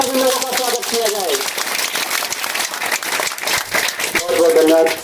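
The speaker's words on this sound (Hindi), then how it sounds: "तो जोरदार तालियों के साथ सभी लोगों का स्वागत किया जाए" Loud crowd applause at a political rally, sustained clapping for several seconds with a speaker's voice heard over it at the start and again near the end.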